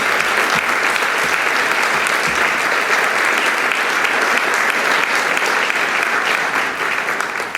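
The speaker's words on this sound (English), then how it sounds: "Let's give them a round of applause." Sustained, loud round of applause from an evening arts-performance audience in a parlor setting, dense steady clapping holding evenly throughout with no talk over it.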